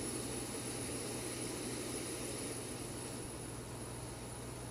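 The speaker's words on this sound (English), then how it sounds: "you can hear the APU starting" The auxiliary power unit of a Zibo Boeing 737 in X-Plane 11 runs up. A steady, even turbine roar and hiss holds at constant loudness with a thin high whine above it, and there is no talking.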